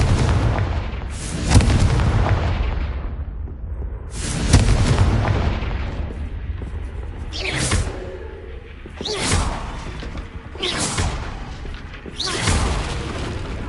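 Repeated explosive blasts from the Confringo spell in Hogwarts Legacy, several loud booms with whooshing bursts spaced a second or two apart, each followed by a rumbling decay.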